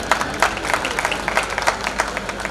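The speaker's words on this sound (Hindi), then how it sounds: "तालियां बजा दीजिए" Audience applause at a Hindi hasya kavi sammelan (comic poetry gathering), a steady wash of many hands clapping together for the whole stretch, fairly loud and close, with no voices on top.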